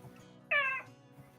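A person imitates a cat's meow with a single short, bright, tonal mew, close and fairly loud against a quiet room, during a tabletop role-playing game session.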